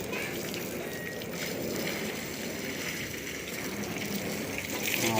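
Water sprayed as a final rinse at the end of a cleaning job, a steady loud broadband hiss and gush running continuously throughout, close to the microphone.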